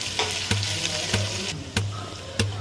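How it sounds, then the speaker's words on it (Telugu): Two medium onions and ten green chillies frying in a pan for chicken pulao, a steady close sizzle broken by sharp clinks of a spoon stirring at regular intervals, no talk. "ఉల్లిపాయలు కొంచెం వేగినాయండి."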